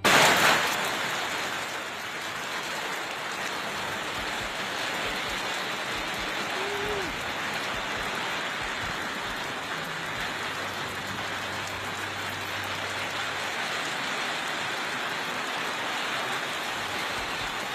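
Heavy rain pours steadily over flooded streets in Najaf, Iraq, a dense, constant hiss of water on surfaces that stays loud and unbroken throughout.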